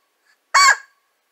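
One brief nasal whine from a Flextone Ol' Bushytail squirrel call, a single loud, close, tonal squeal lasting under half a second against silence.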